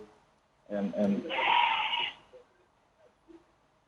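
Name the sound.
goat bleating in the background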